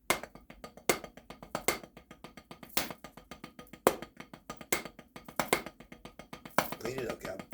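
A six-stroke roll combined with a double paradiddle, played as a drum rudiment: quick, crisp sticking strokes in uneven clusters with sharper accented hits, close and dry, repeating over several bars with no talking.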